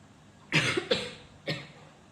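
Three short, close coughs in quick succession, the first two nearly back to back and the third after a brief pause, in an otherwise quiet room.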